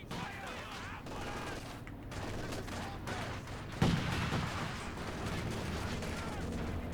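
Soviet conscripts firing on a Panzer Grenadier squad in Company of Heroes 2 on a winter map, a steady stream of rifle and machine-gun fire at moderate distance with one louder close blast midway.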